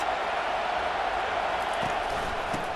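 Stadium crowd in EA Sports College Football 25, a steady, dense roar of cheering that stays at an even loudness throughout without breaks.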